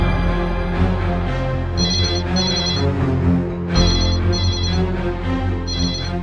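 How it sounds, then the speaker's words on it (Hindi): An electronic phone ringtone chirps in repeated short double bursts over a steady background of music and hum. "मैं अभी इंस्पेक्टर को फोन लगाती हूँ।"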